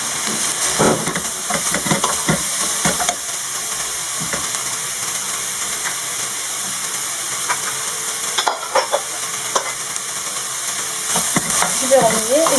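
Eggplant and chopped garlic sizzle in a hot pan while being stirred, with a continuous hiss broken by scraping and clattering as the spoon moves through the vegetables.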